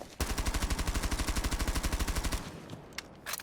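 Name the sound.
gunfire from a gun in the video game Rainbow Six Siege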